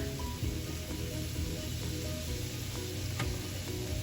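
A pan of pork-loin sauce sizzles steadily as flour is slowly stirred in, a continuous close frying hiss with faint scraping, no talking.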